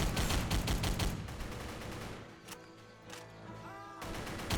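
Gunfire in a shooter video game, a rapid burst of automatic shots at the start and again at the end, with scattered single shots and a faint gap between them, loud with no talk.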